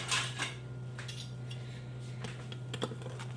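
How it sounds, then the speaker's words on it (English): A knife slices through a hot, gluten-free raw vegan quinoa flatbread, making faint, irregular clicks and light scraping taps against the board, quiet and close. "I'm just going to cut it now that it's hot"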